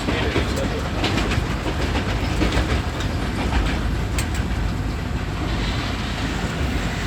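Green Line Express passenger train running from Rawalpindi toward Lahore in Pakistan, a steady loud rumble of rolling wheels with rhythmic clickety-clack over rail joints, continuous and close throughout.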